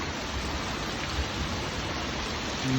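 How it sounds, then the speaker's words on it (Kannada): Heavy monsoon rain pours down in Coorg with rushing water, a dense, steady roar that stays loud and unbroken throughout, with no voices. "ಮಳೆ ತುಂಬಿ ಹರಿತಾ ಇದೆ. ನೋಡಿ, ಈ ಫೋರ್ಸಲ್ಲಿ ನೀರು ಬರ್ತಾ ಇದೆ."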